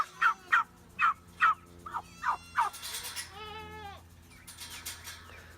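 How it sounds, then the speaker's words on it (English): Several turkeys gobbling in a rapid series of loud, close calls over the first three seconds, followed by softer warbling bird and animal noises with faint bleating in the background. "Turkeys."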